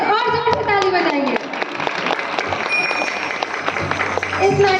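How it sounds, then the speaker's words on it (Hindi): Applause from an audience for child actors at a children's drama performance, dense continuous clapping lasting throughout, with a voice talking over the start and end. "आपके ही बच्चे हैं, और जोर से ताली बजाइए"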